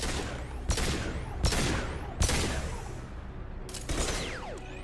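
Bursts of automatic gunfire from a Mass Effect 2 firefight, several loud rapid volleys separated by brief gaps, with whooshing projectiles and a dense booming backdrop and no talking.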